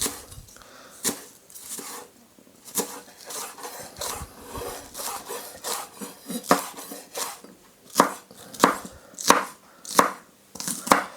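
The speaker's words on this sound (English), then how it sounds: "And then I'm just going to slice them quite fine." A knife chops finely through spring onions on a cutting board, making a rapid series of crisp, close knocks with a few louder strikes in the last seconds, and no one talks.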